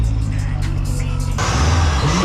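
A car revs at a car meet among supercars, a steady loud engine drone that swells into a stronger, brighter roar partway through, with crowd voices around it.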